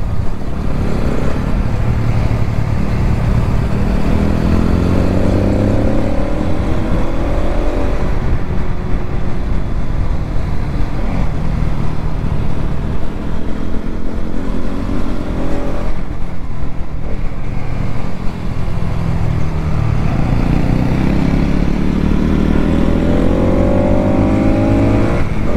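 A 200cc motorcycle, either a Pulsar NS 200 or an Apache RTR 200 4V, ridden on the road during a mileage test. Its loud, steady engine drone runs under rushing wind, with repeated rising rev sweeps as it shifts through the gears.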